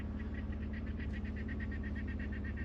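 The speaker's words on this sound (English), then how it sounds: "Now that's the bird that's making that kind of cackling noise." A bird near Walkabout Creek Hotel gives a repeated cackling call, a steady run of rapid chattering notes over a constant low outdoor hum, with no one talking.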